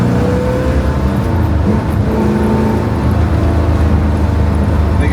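A 1965 Corvette coupe's upgraded 327 cubic-inch, 350 hp V8 runs with a loud, steady, deep rumble that stays close and even throughout, with no voices over it.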